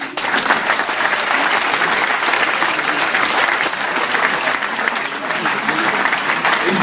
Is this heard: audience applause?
yes